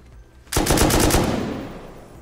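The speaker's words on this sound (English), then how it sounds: "the turret didn't even get me that time" Automated turret in the survival game Rust opens fire with a sudden loud burst of rapid shots, a dense volley that hammers on for over a second and then trails off into a fading echo.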